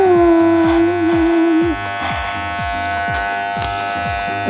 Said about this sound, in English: Yeah, I'll do that with the regular trimmer.